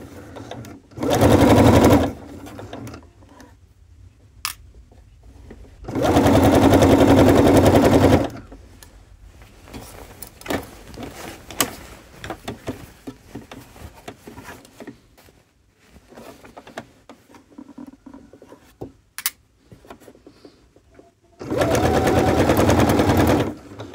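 A sewing machine stitching a polo placket, running in three loud bursts of rapid stitching separated by quiet stretches of fabric handling and small clicks.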